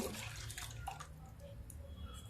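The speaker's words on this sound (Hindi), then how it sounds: "अब थोड़ा पानी और मिक्स करते हैं।" Water is poured into a pan of water chestnut flour and sugar while sweet lapsi is being cooked, making a steady splashing and trickling sound close by with no voices.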